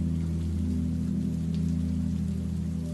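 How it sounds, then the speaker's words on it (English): Steady rain falls outside a bakery at night, a soft continuous patter over a low, even oven hum. "The rain outside,"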